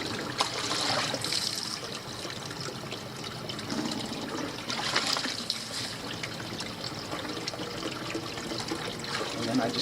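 Water runs steadily from a garden pond pump during a manual filter flush with the pads removed, a continuous trickling and splashing wash at moderate level with no clear breaks.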